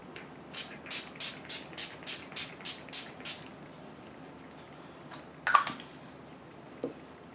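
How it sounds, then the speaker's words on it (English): Ten or so quick, evenly spaced pumps of makeup setting spray onto a face hiss in a rhythmic burst, close to the mic, followed by a louder rustle and a faint tap. "I would just spray it all over my face."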